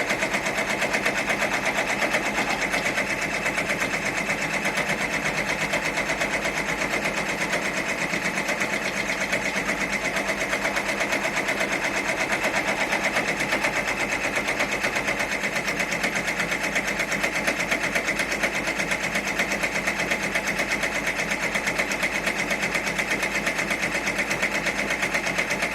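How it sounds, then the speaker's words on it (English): A sewing machine runs a steady, continuous satin stitch on a cut-and-stitch T-shirt with vinyl appliqué. The hum is close and even, with no talking. "its satin stitching."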